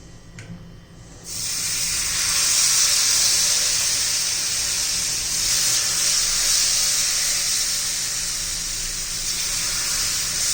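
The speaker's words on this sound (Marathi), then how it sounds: "आता त्याच्यावर आपण हे बॅटर सोडून घेऊया" Loud, steady hissing sizzle of jowar flour dosa batter on an iron griddle starts abruptly after a second of quiet and continues evenly, close up, with no voices.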